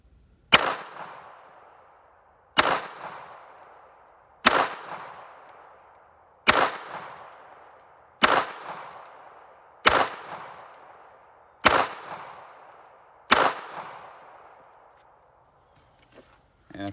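Eight evenly spaced gunshots ring out in the woods as shots are fired at a target, each a sharp, loud crack followed by a decaying echo, about two seconds apart.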